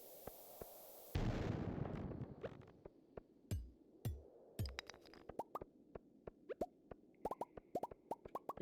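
Bombs going off in a cave level of the farming game Stardew Valley: a loud blast with a rumbling tail, followed by a scatter of sharp pops and thuds, some spaced singly and others clustered quickly together.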